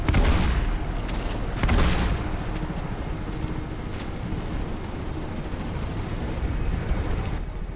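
Shotgun blasts in the video game Mirror's Edge: two heavy, booming shots less than two seconds apart, followed by a lingering rumble of game noise and distant gunfire-like clatter.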